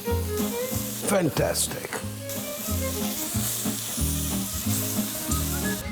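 Soy sauce sizzling and hissing in a hot pan with caramelized prawns, a continuous fry punctuated by stirring scrapes and spurts, with music in the background and a voice speaking briefly.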